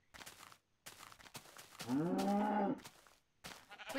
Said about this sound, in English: The cow is over there